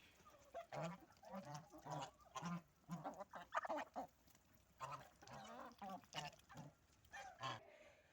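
Geese honking repeatedly in bursts, fairly close, with several birds calling over one another in an uneven rhythm.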